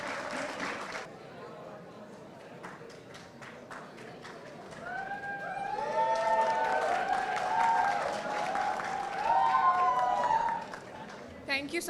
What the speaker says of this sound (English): Give it your big round of applause again.